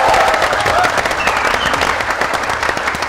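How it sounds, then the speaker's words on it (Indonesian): Loud studio audience applause on the Indonesian Deal or No Deal game show, honoring former national athletes; dense, crackling clapping from many hands filling the whole moment without pause. "Mari kita berikan tepuk tangan beriah sekali buat mereka."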